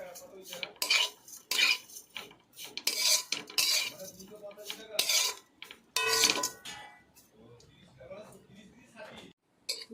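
Vermicelli (semai) with sugar stirred in a pan, loud bursts of metal spoon scraping and clinking against the pan in uneven strokes, with pauses between and a voice talking at times.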